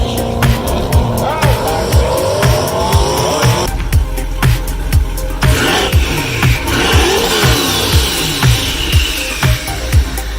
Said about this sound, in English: Broke an axle on the burnout.